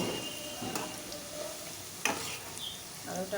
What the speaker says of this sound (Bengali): এটাকে এবার আমি লাল করে ভেজে নিব।